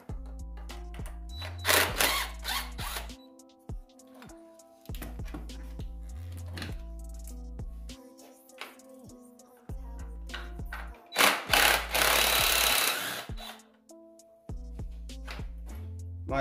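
Wrench work loosening 10 mm bolts near the throttle body of a 2007 Jeep Grand Cherokee with a rough idle: repeated close metallic clicks, ratcheting and clunks in short bursts, separated by brief quiet gaps.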